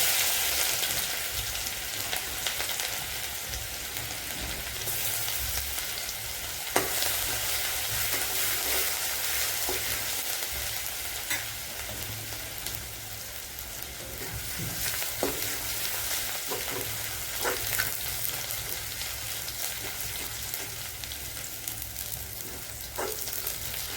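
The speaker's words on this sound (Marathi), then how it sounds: "आता आपलं तेल गरम झालेलं आहे। आपण हे तेलामध्ये परतून घेऊ।" Whole spices such as bay leaf, black stone flower and peppercorns fry in hot oil for a chicken soup, a steady close sizzle and hiss with occasional stirring clicks and scrapes throughout, no talk.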